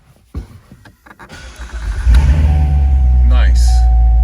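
2017 Corvette Grand Sport 3LT convertible engine cranks and fires up, swelling into a loud, deep idle rumble after a few interior clicks, heard up close.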